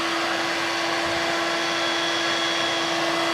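A Dirt Devil Vibe corded bagless stick vacuum cleaner runs close by with a steady, even motor whine and airflow hiss that holds unchanged throughout, with no voices.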